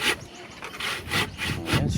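An elderly woman working a blunt hand saw through wood, giving rough rasping strokes that rise and fall in a steady rhythm, close and fairly loud with no talk.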